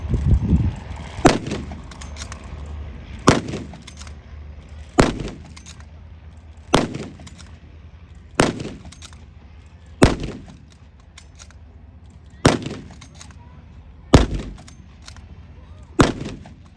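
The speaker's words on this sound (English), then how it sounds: "we'll have a few shots fired from this" Single shots ring out from a weapon at a Fire Power tank show, about nine sharp cracks spaced roughly two seconds apart, each trailing into a short echo over a faint outdoor background.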